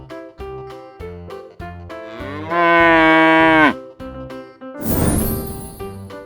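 One loud, sustained cow moo lasting about a second, up close over a cheerful plucked melody, followed by a bright swishing crash.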